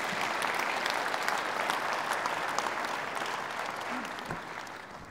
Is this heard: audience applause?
yes